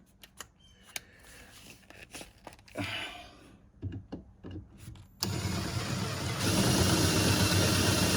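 Drill boring a hole into a screw while building a portable chalkboard stand: scattered knocks and handling noises at first, then a loud, steady motor whine runs continuously through the last few seconds, close and without talk.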